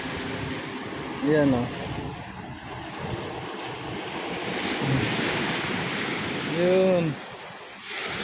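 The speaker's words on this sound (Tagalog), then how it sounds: "Pagmasdan nyo mga ka-road trip yung alon no." Waves break and wash steadily onto Jumeirah Beach in Dubai, a broad continuous surf roar mixed with wind buffeting the microphone, while someone speaks briefly a couple of times.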